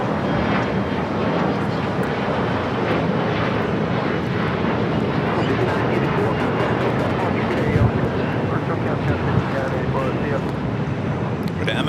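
MSC Air Cargo plane taking off from LAX, a loud continuous broadband jet engine roar with wind buffeting, heard from nearby on the airport's south side.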